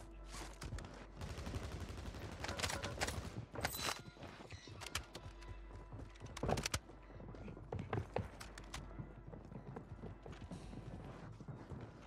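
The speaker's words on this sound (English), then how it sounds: "I literally just hear these dudes straight stomping around." Footsteps stomp on a roof in Warzone 3, a run of heavy rhythmic thuds mixed with bursts of game gunfire and mechanical clatter, dense and continuous throughout.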